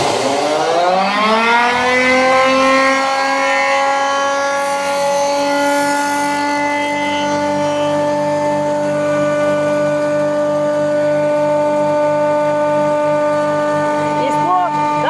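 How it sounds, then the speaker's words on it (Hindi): A 10 HP pulveriser grinding machine powers up, its motor whine rising in pitch over the first couple of seconds, then holding a steady loud mechanical hum with sustained tonal harmonics and no talk. "10 HP की मशीन मैं चला रहा हूँ, आपको डेमो दिखा रहा हूँ कैसे चलेगा।"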